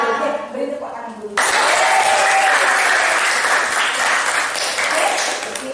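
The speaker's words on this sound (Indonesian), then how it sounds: "Oke, beri tepuk tangan dulu." Students in a classroom break into applause after a teacher's lesson. A voice is heard briefly before a sudden, loud burst of many hands clapping takes over and continues steadily.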